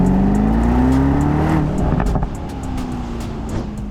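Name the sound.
Aston Martin Vantage V8 engine sound while driving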